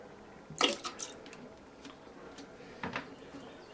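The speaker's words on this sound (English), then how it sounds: "Just a little splash." Small water splash during bathroom cleaning: a brief, faint splash and drip near the start, followed by a second soft splash, in an otherwise quiet room with no talking.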